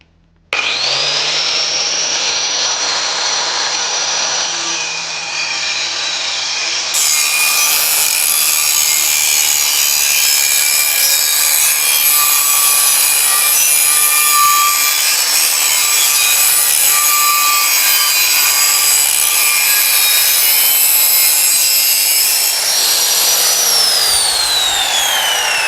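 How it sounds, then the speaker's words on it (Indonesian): An angle grinder cuts along the marked outline of a homemade Zabuza sword, a loud continuous whining grind close by that spins up, runs steadily for over twenty seconds, then winds down. "Ini kita bakalan gerinda yang udah kita tandain tadi"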